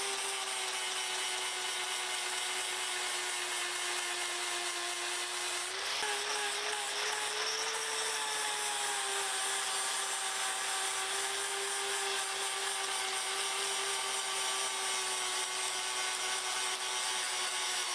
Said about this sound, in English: So right, let me grind that down.